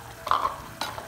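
A spoon stirs flour dough in a pan on the stove, giving two short scraping, sizzling swishes close by with no talking.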